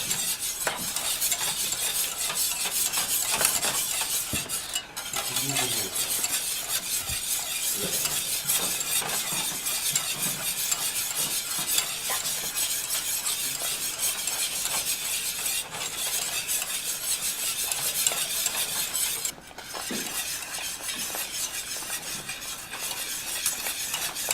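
Cheese is added a little at a time and stirred into a pan while cooking an authentic Mexican dish, with steady sizzling, scraping utensil strokes and occasional clinks against the pan.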